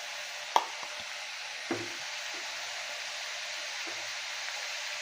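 Ridge gourd stir-fry sizzling steadily in a pan as a spoon scrapes through it, with a sharp knock near the start and a couple of soft clunks, close and fairly quiet.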